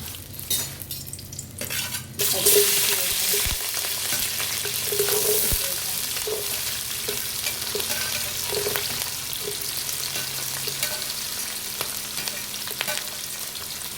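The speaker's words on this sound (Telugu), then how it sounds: "నేనైతే రెండు బిర్యానీ ఆకులు వేసుకుంటున్నాను" Two bay leaves fry in hot oil for a chicken curry, giving a continuous close, loud sizzle with occasional stirring scrapes and light utensil taps against the pot.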